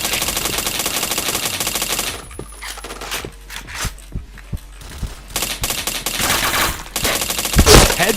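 Rapid bursts of gunfire from a shooting video game, dense automatic fire at first, then a lull with sharp single shots and scattered clicks, building back into loud volleys near the end.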